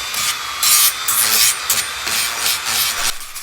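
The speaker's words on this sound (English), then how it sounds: "This is the little M12 sander grinder." A small Milwaukee M12 sander grinder scours corrosion and high spots off a Volvo V70 front brake disc, giving a loud, close, bright abrasive rasp in uneven bursts, with no talking.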